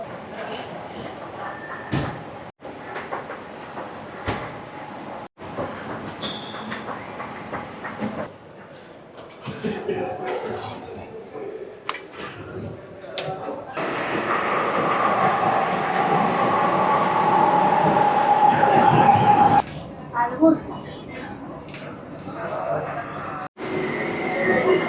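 A Bilbao metro train moves through a station with a rising roar and rumble that peaks, then fades, between clicks and thumps. Some voices can be heard nearby.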